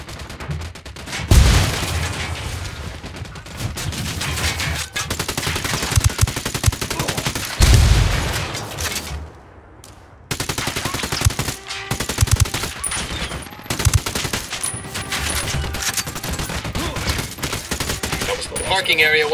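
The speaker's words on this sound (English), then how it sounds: "I'm opening fire." Automatic rifle fire from a Ghost Recon Wildlands firefight crackles in long, dense bursts with heavy booming impacts, loud and close. It drops away briefly at one point, then resumes just as intensely.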